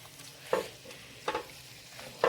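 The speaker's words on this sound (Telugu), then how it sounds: "ఈ పొడి ఇప్పుడు కర్రీలో కొంచెం వేసుకుంటూ కలుపుకోవాలండి." A spoon stirs spice powder into chicken curry in a pan with curry leaves, giving three short scraping bursts over a faint, quiet sizzle.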